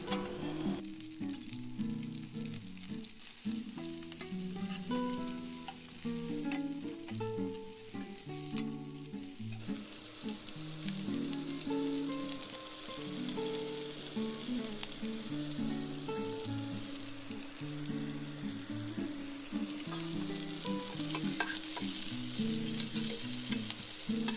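Onions frying in oil for a Chettinad chicken gravy, a continuous close sizzle with intermittent stirring and scraping strokes in the pan, no voices.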